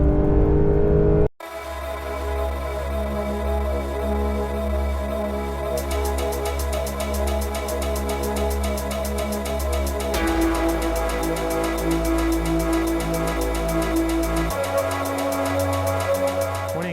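A Porsche 911 GT3 engine at Sepang International Circuit winds up after a sharp start into a sustained, loud, high-pitched revving toward 9,000 RPM, holding a strong steady drone with clear shifts in pitch along the way, with no talking.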